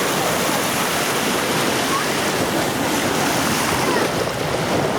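Sea waves and surf at a beach wash steadily in a loud, continuous broadband roar with wind noise, close to the water, with no clear talking.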